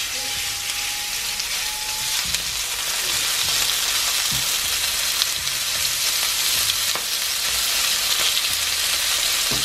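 Beef fries in oil in a pan on medium-high heat, giving a loud, even sizzle and crackle that holds steady close up for several seconds, with a brief thin tone near the start.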